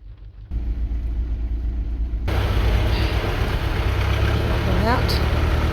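A Massey tractor's engine roars and strains at close range while pulling a stuck car out of a muddy bog, a loud steady low rumble that grows heavier partway through, with a brief rising whine near the end.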